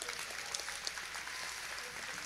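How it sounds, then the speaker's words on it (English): A crowd applauds at an evening campus gathering, steady broadband clapping held at a moderate, fairly distant level for a couple of seconds with a few sharper individual claps poking through. "Give him a round of applause."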